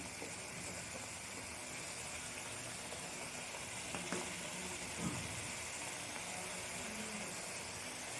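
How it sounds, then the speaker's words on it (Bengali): Spices with turmeric powder and chilli powder fry in hot oil in a Bengali home kitchen, a continuous close sizzle with occasional stirring scrapes and no voices. "মশলাটা আমি ভালো করে কষিয়ে নেব"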